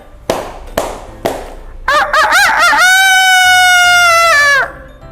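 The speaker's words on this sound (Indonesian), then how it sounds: "diiringi suara ayam jago berkokok" A single loud rooster crow rings out close by, rising into a long sustained cock-a-doodle-doo after a few sharp preliminary thumps.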